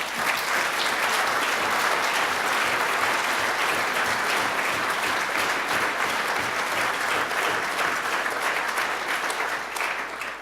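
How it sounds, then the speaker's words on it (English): A large audience at a formal annual dinner gives sustained, loud applause to Labour MPs. The dense, even clapping continues without a pause throughout. "let's please give them a massive round of applause."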